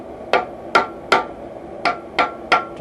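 Hammer blows on red-hot metal as a blacksmith forges a custom mantle hook: six sharp, ringing strikes up close, landing in an uneven rhythm with brief pauses between them, and no talking.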